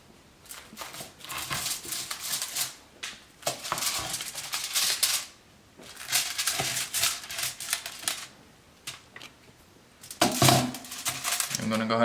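A knife slices a toasted quesadilla into four pieces, giving repeated crisp crunching cuts and clattery board taps in bursts, with brief quiet gaps between them.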